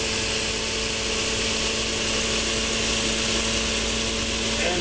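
Secondhand fan from a junkyard blowing air through a solar furnace, a constant droning hum with a steady tonal whine, close and unchanging throughout.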